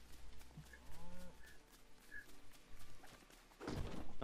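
A cow in Lego Fortnite gives a few soft, low moos with faint shuffling footsteps nearby, quiet and sparse, ending in a brief louder rustle.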